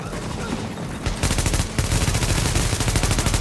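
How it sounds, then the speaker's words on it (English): Gunfire in Tom Clancy's The Division on Xbox One: after a short rumbling lull, a dense stream of rapid, loud shots cracks on without pause for the rest of the moment. "Oh, so that's a sniper."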